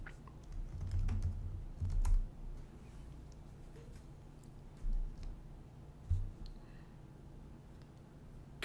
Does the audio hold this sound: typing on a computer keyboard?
yes